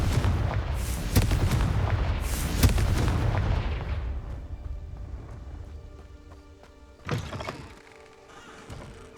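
A Confringo spell blast in Hogwarts Legacy, heavy booming explosive bursts with a rolling rumble that fades, followed by a lighter later thud and a quieter tail.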